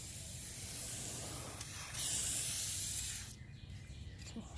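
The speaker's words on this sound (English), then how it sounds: "Let's spray it down again with the WD." WD lubricant sprayed liberally from a can onto freshly sharpened hedge trimmer blades, a steady close hiss lasting about three seconds that swells midway and then cuts off, leaving quiet room tone.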